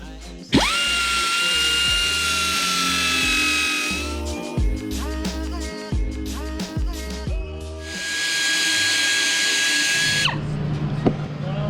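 A power tool widens a hole in the rear clam body of a 2005 Lotus Elise, starting with a loud high-pitched whine, then a stretch of rough ratcheting grinding, then another steady whine that cuts off abruptly.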